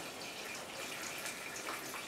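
Petrol poured through a funnel into the fuel tank of a Gilera Runner scooter: a faint, steady trickling and gurgling of liquid, close and quiet, running without pause for a couple of seconds, with no talking.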